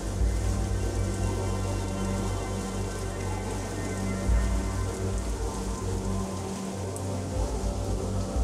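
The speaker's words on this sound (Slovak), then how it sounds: "Ako tu všade prší. Prší dáždík." Steady rain falls in the Höllental gorge below the Zugspitze in Bavaria, a dense, continuous patter and hiss over a low rumble, holding an even loudness throughout with no voices.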